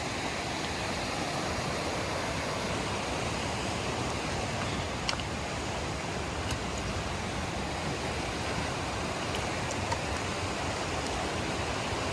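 A river in the Blue Range of British Columbia rushes in a steady, dense broadband roar that continues unbroken throughout, with no voices.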